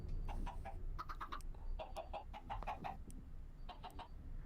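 Chickens cluck repeatedly in a farming video game, a steady run of short calls over a low background hum, with no talking.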